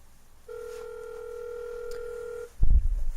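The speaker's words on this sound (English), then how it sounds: "So that's my computer calling this phone." A computer places a call to an HTC 8X running Windows Phone 8, producing one steady two-tone electronic signal lasting about two seconds, followed by a brief low thump near the end.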